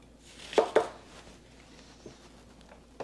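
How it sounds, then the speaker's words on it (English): An onion is chopped into four pieces on a board: two sharp knife strikes in quick succession near the start, then a couple of softer taps, with quiet room noise between. "our onion, I'm going to chop up into 4 pieces"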